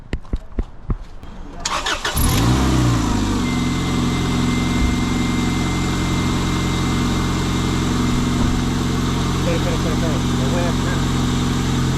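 A car engine cranks and catches after a couple of seconds of clicks and handling noise, then settles into a loud, steady idle close by, on a contractor's job.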